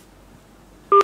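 Telephone line tone after the caller hangs up: a short, loud electronic tone pulse bursts in at the very end after near silence.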